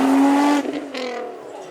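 A Nissan GT-R's turbocharged engine opens with a loud, sustained high rev, then drops into a lighter, throatier burble and a second rising pull from the car at a supercar event.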